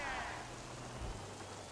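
Rain falls steadily in GTA V while a small, quiet car drives along, a soft, continuous hiss with a low engine hum underneath and faint talk at times.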